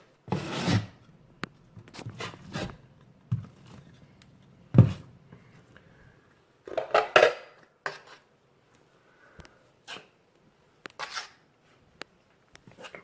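A trowel spreads and scrapes tile adhesive for a glass kitchen backsplash, giving intermittent close rasping strokes and light clicks separated by quiet gaps.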